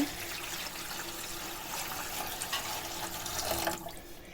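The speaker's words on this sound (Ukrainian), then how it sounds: "Наливаємо звичайнісіньку воду" Plain water pours steadily into an air fryer, a continuous splashing trickle that swells slightly near the end.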